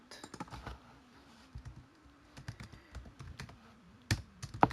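Someone types text on a computer keyboard during a GIMP editing session, producing quiet, close, irregular bursts of key clicks with short pauses between them.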